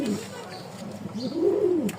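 Soft, low pigeon coos rise and fall twice over quiet background noise, with a faint chirp near the end.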